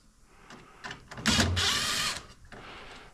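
A power tool drives screws out of the trim on a 1962 Cadillac Fleetwood, with a short whirring burst in the middle and softer mechanical clicks before and after.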